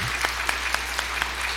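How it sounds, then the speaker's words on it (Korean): A church congregation claps in a brief, faint, evenly spaced rhythm, a few sharp claps each second over a low hum in a reverberant hall. No one speaks. "우리 찬양들을 위해서 함께 박수합니다"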